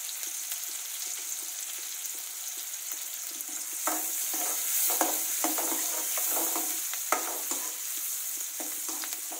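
Onions fry with turmeric in hot oil, browning in a pan; a continuous sizzle with frequent spoon stirs and scrapes, growing busier midway, no talking.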